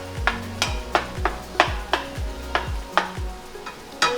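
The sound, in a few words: eggplant mixture warming and sizzling in oil in a pan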